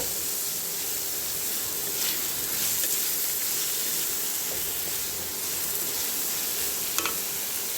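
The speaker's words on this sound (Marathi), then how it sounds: "आता हे चांगलं भाजू देते." A spiced potato and onion filling fries in a pan with a steady, even sizzle and hiss, plus a couple of faint scrapes as it is stirred, and no talk.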